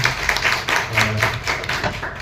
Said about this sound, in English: A big round of applause for him as well